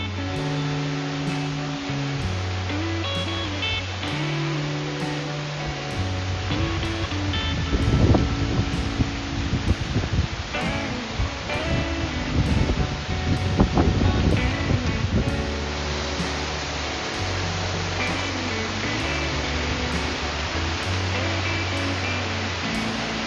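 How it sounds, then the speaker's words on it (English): Water pours continuously down Coldwater Fall, the world's largest man-made natural stone waterfall in Spring Park, Tuscumbia, Alabama, a steady broad rush heard under looping background music with no talking. "That is Coldwater Fall, the world's largest man-made natural stone waterfall."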